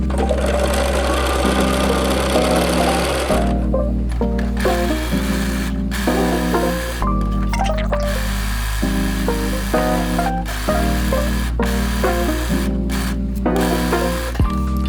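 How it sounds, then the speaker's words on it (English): A sewing machine runs rows of stitches on lace lingerie fabric, its needle pattering in fast bursts broken by short pauses, loud and close, with no talking. "I'm going to go ahead and do my second row of stitching right below that first one"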